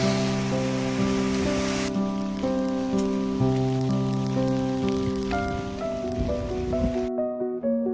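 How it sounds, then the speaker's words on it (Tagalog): Heavy rain hisses steadily and loudly, with sustained musical tones ringing over the downpour until it cuts off near the end. "Grabe ang ulan."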